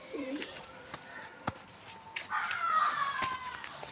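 Pigeons coo in a loft with soft low burbling calls among scattered bird sounds, sharp clicks and flutters, and background voices and children nearby.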